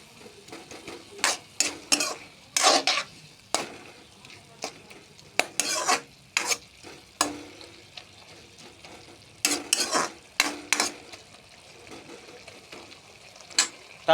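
A spatula stirs pumpkin stalk curry with ginger and bori in a frying pan. Irregular scraping and clattering strokes come in bursts, some clustered and some spaced apart, over a low, steady sizzle.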